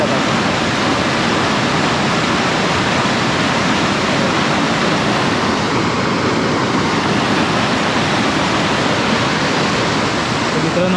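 Floodwater in a Konkan river swollen by heavy monsoon rain roars loudly and continuously, a dense broadband rush with no breaks, close by and steady for the whole stretch.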